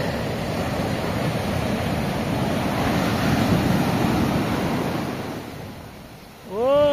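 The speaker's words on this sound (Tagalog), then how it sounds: "Hindi abot ng waves. Pang surfing na ito, eh." Surf breaks and washes continuously along the shore at The Sands in San Antonio, a broad, steady roar with wind buffeting the microphone, easing off near the end as a brief tonal whine cuts in.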